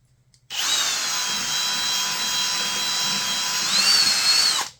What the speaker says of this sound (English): let's go up one more drill bit size to a 5/64